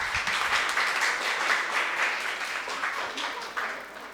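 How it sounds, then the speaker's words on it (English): An audience applauds children after a dance and drama presentation at a school, giving a steady, dense round of clapping that holds at an even level throughout. "Once again, let's clap for these amazing children."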